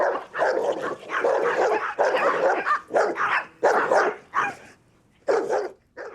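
Loud, close barking from a small group of young dogs, a series of sharp repeated barks and yips in uneven bursts with short pauses between them.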